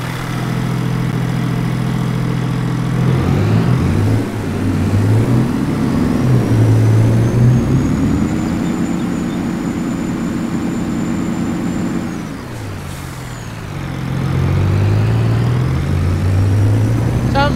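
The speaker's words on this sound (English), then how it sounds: "He's got a personal tow truck." A tow truck's engine rumbles up close and steady, its drone rising and shifting as it draws near, idling at the scene of an ATV rollover.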